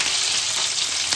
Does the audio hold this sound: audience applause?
no